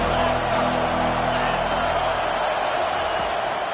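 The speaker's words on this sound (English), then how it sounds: "how nice is it to have the home crowd going absolutely bananas" A packed home crowd at a Florida college football game roars continuously, a dense wall of cheering and shouting that stays loud throughout.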